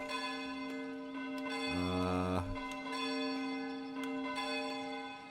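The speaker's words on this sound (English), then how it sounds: "Church bell's going nuts." A church bell tolls in the Foundation village-building game, a sustained ringing tone with a brief burst of rapid clanging strikes in the middle, heard clearly and alone over steady background tones.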